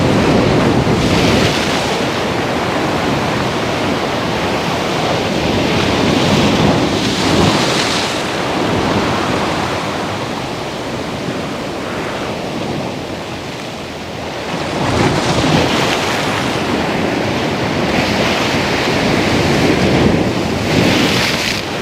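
Big ocean surf at Phala Beach, Thailand, under a red flag warning, crashes and roars continuously, loud and close, with heavy wind buffeting the microphone and swelling breakers every few seconds.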